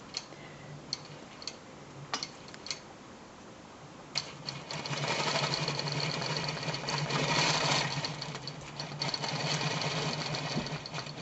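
A quilting machine stitches a pantograph row across a quilt. Scattered ticks come first, then a steady, close mechanical whirring hum with rapid rhythmic stitching ticks that rises in the second half and continues to the end.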